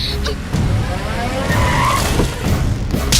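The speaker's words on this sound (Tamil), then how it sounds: "வண்டி எடுத்துடா. ரிவர்ஸ் போ." A car reverses with its tyres skidding and scraping in a film fight scene, a rough, continuous rush of noise with a short squeal in the middle.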